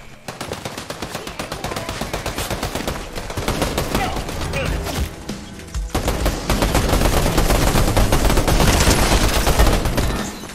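Video game gunfire crackles in rapid, nearly continuous machine-gun bursts layered with single shots. It dips briefly in the middle, then swells louder and denser toward the end.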